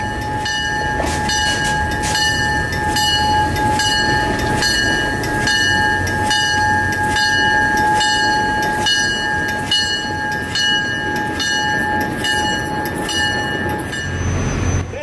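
Old Alco diesel locomotive pulls a museum passenger train to a stop: rhythmic wheel clatter over rail joints with a steady high squeal of brakes, the rolling noise easing off near the end, loud and close.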